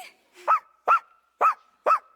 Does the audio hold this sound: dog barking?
yes